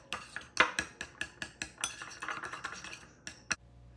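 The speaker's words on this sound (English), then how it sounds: "Then you mix the jam with the water" A spoon clinks and scrapes steadily against a bowl as apricot jam is stirred together with a teaspoon of water, with a dozen or so sharp, close taps in an uneven rhythm and no talking.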